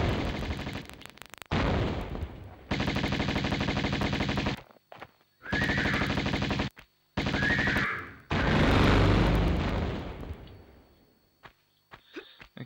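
Enemy gunfire in the PS1 Tomb Raider game comes as long, loud bursts of rapid repeated shots broken by brief gaps, ending in a heavier blast that fades out.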